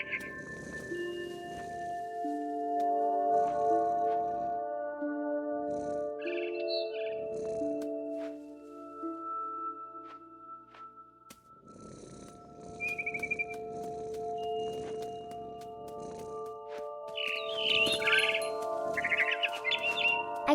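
Mama bird in the video game What Remains of Edith Finch chirping in short high tweets amid layered melodic game music and ambient tones, with bursts of calls near the end.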